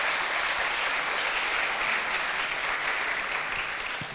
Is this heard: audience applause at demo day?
yes